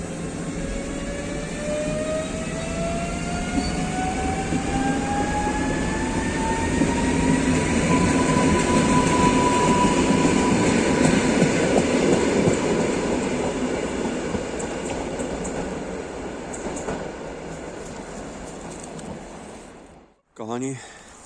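An InterCity-era train rolls backwards through a Polish station, a long drawn-out rumble of wheels and carriages with a rising whine and squeal, loud and close, fading near the end before a brief knock; no clear talk over it.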